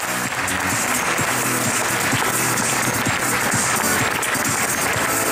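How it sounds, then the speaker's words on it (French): Crowd applause at an outdoor cycling race trophy ceremony, continuous dense clapping mixed with crowd noise, loud and unbroken. "Avec vos applaudissements"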